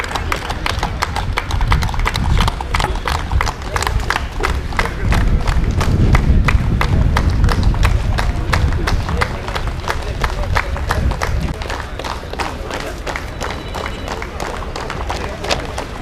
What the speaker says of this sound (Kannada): ತಮ್ಮೆಲ್ಲರ ಒಂದು ಚಪ್ಪಾಳೆ ಸ್ಫೂರ್ತಿದಾಯಕವಾಗಿರಲಿ.